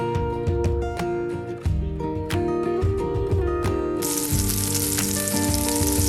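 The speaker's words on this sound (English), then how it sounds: "refry them a little bit" Breaded dandelion roots fry in a pan, a steady bright sizzle that grows louder and denser partway through, heard alongside a sustained musical backing with no talking.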